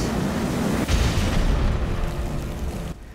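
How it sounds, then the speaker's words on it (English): A booming explosion as Batman wrecks his own TV in Lego Batman 3, a loud roaring blast with a sharp surge partway through before it cuts off abruptly. "Batman, did you really destroy your own TV?"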